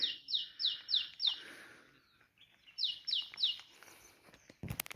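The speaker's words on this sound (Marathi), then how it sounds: "पक्ष्यांचे आवाज ऐकताय तुम्ही." Birds calling in a forest: bursts of bright, rapid repeated chirps in two clusters, fairly close and clear, with quieter scattered calls between and a few sharp clicks near the end.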